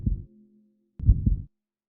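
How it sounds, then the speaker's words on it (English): A protagonist's heartbeat in the Hellnight horror game after sprinting: deep, muffled thumps, one beat followed by a close double thump about a second later, with a low hum between them. "your ears to rumble with the sound of your protagonist's heartbeat"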